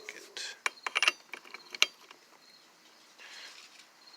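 Socket wrench clicking on a bolt while replacing the rollers on a Hyosung SF50 scooter, giving a few quiet, irregular mechanical ratchet clicks and taps up close, with a brief louder snap partway through.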